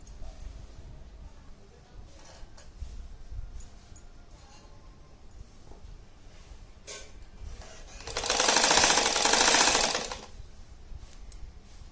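A sewing machine stitches a fabric strap onto a zippered shopping bag in one loud rapid burst of about two seconds near the end, after quieter handling sounds and someone talking.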